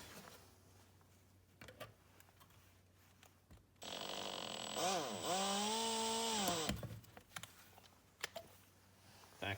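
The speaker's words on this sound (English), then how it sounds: "I could use the drill." A power drill bores into a metal reinforcement skid weight plate for an RC car, a steady high-pitched whine with shifting pitch lasting a few seconds, close and loud, with quieter workshop noise before and after.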